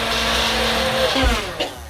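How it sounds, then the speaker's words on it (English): A handheld immersion blender purees potatoes and leeks for a vegan clam chowder, a steady, close motor whine with a loud, continuous buzz, wavering slightly as the blade churns the thick mixture. "It always takes longer than I anticipate when I'm pureeing with the handheld."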